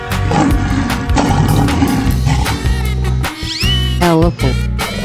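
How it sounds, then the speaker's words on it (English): A lion roars in a 3D animal video game, a loud growling roar blended into dense, continuous game music and effects. "lion,"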